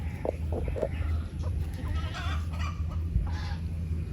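Goats and chickens on a small Filipino poultry farm, with a faint bleat and soft clucks mixed into steady low rumbling background noise, fairly distant and continuous.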